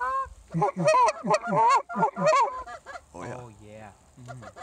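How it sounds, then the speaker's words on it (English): Canada geese honk loudly and repeatedly at close range in an excited, overlapping chorus during a hunt, with a voice speaking briefly among the calls. "Let's take a gander at these Canadian honkers."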